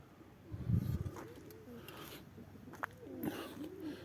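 Young pigeons coo softly nearby in hot weather, giving a few low, rounded, rolling calls over a faint outdoor background.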